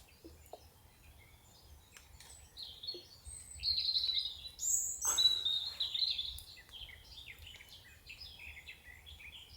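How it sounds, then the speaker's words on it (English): Birds chirp and sing outdoors in the Swedish countryside, with bright repeated calls rising in the middle and softer tweets around them against a quiet background. "Listen to the birds."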